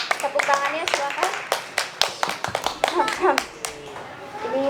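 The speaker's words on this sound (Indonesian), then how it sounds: "Tepuk tangannya silakan." Audience members at a discussion on democracy for young people clap in sparse, uneven bursts, with individual claps standing out, while voices talk over and between them.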